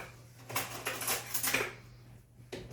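A spoon clinking against a bowl while mixing blueberry filling, a few light scattered metallic taps and scrapes over about three seconds, close and quiet.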